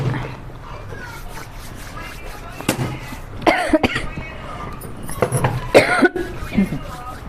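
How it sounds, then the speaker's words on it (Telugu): Coughing during a pani puri eating challenge at home, a few sharp bursts in the middle and end of the clip, with people talking and background chatter throughout. "కొంచెం దగ్గు ఎక్కువ వస్తుంది."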